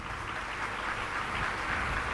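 An audience at a devotional festival gathering claps for the Lions Club, a brief, steady patter of many hands at moderate distance with no voices over it.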